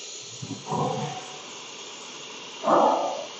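Air hissing out of a Stemco Pro-Torque trailer hub inflation system as the hubcap is removed, two broadband bursts, a short one followed by a louder, longer rush, with quiet in between.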